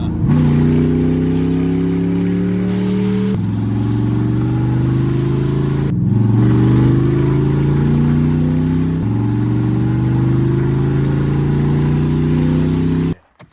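Ford Mustang with a swapped LS V8 engine revs hard and steadily on its first drive, loud and close, with rising pitch sweeps repeating across several pulls before cutting off abruptly at the end.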